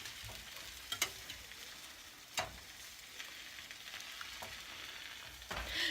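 Eggs fry in a pan with a steady, soft sizzling hiss, broken by a few sharp utensil clicks and scrapes.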